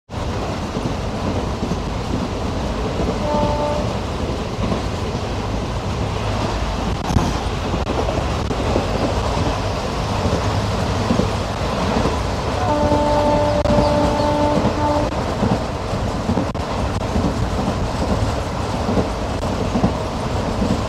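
The 16116 PDY MS Express from Puducherry to Mahabalipuram running along the rails, a continuous loud rumble and rattle of carriages with faint tonal squeals, heard from inside the train.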